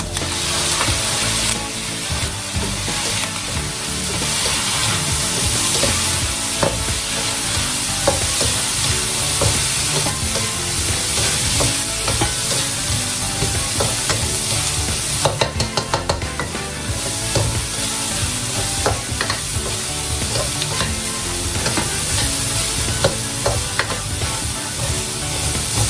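Pork bopis sizzling in a pan after vinegar goes in, with a busy, continuous crackle and frequent scraping stirs throughout, close and steady, with no voices.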